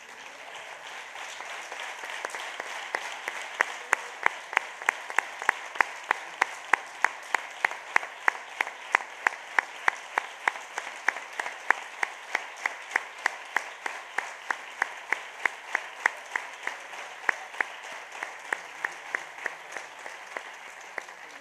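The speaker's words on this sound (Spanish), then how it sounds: "quiero que las palmas suenen fuerte para Marcos Serrato" Rhythmic flamenco palmas from an audience at a flamenco festival tribute honoring a local cantaor, sharp hand claps in a steady, even beat that build and hold over a continuous wash of applause for about twenty seconds.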